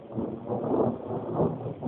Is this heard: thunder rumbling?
yes